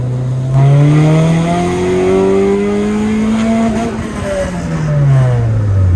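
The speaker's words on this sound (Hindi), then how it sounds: "एग्जॉस्ट में नवा लगा लिया जे, ते आवाज इसकी बहुत एक वैसी किस्म की हो गई है।" Car engine with a newly fitted aftermarket exhaust revs up and holds a loud, rising then falling drone for several seconds, close by with no talking.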